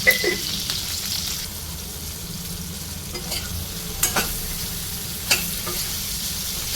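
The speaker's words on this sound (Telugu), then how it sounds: "ఇందులో కొంచెం సాల్ట్ వేసి వేయించుకోవాలి" Mint chutney ingredients with salt fry in a pan, a soft continuous sizzle broken by a few sharp clinks and scrapes of stirring, no speech.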